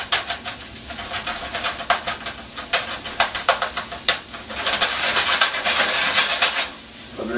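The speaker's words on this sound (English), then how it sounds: "Meat's cooked. I'm just going to give it one final chop." Cooked meat being chopped in a pan, a quick run of sharp scraping, rasping strokes against the pan under a steady sizzling hiss, close and fairly loud with no talking.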